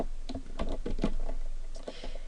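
Someone types HTML form code on a computer keyboard, a close, rapid patter of key clicks in uneven bursts over a faint steady background hiss.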